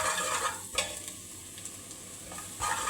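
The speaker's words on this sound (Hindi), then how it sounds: "तो अब हम इसके अंदर शामिल कर देंगे 3 से 4 कटी हुई हरी मिर्च। इसकी भी भुनाई करेंगे मसाले के साथ।" Chopped green chillies frying with masala in a pan for an aloo baingan curry, a soft steady sizzle with scraping stir strokes of a spoon near the start and end, close and fairly quiet, no talk.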